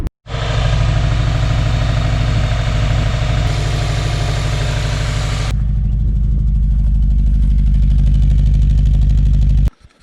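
A Subaru WRX engine with a misfire starts up and idles roughly, a loud, close, deep rumble that changes tone partway through and then cuts off near the end.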